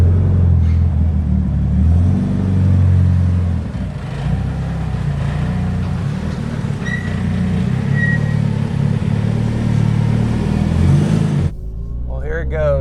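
Mitsubishi Evolution IX being driven while still cold on a cold day, with a rough idle: a steady, loud engine rumble under way that drops off near the end, when a voice briefly speaks.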